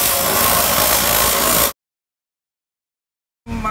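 Yamaha Aerox 155 scooter with a hollowed-out stock muffler gives a loud, steady engine drone that cuts off abruptly partway through, then resumes after a short silence.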